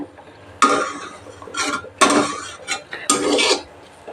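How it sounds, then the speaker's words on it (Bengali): Coriander powder stirred into spices in a pan, heard as three or four loud bursts of a metal spoon scraping and clattering against the pan, close and separated by short pauses. "ধনে গুঁড়ো অ্যাড করে মিক্স করে দিচ্ছি"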